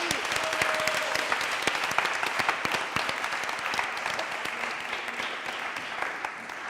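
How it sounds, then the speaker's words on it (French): Studio audience applauding a contestant on the Burger Quizz game show, a steady dense wash of clapping lasting throughout, fairly loud and close with no voices over it. "On peut l'applaudir."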